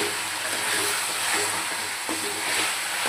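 Mutton sautéing in a pan for a Hyderabadi mutton masala curry, giving a steady broad sizzle with stirring scrapes that come and go, loud and close throughout with no talking.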